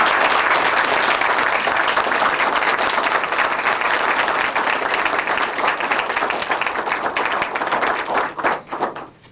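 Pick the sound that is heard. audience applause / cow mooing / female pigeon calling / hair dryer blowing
audience applause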